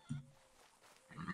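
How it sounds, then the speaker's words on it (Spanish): A Merino sheep in the Red Dead Redemption 2 video game gives two short, quiet bleats, one at the start and one at the end, with near silence between. "Oveja merina en buen estado."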